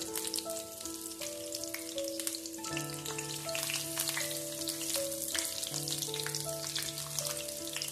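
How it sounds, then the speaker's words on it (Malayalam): Curry leaves crackle and sizzle steadily in hot oil for a Kerala-style fish fry, a dense, continuous frying hiss with sharp pops scattered throughout, close and fairly loud, while music plays underneath. "ഇനി നമുക്ക് ഈ എണ്ണയിലോട്ട് കറിവേപ്പില വെച്ച് കൊടുക്കാം."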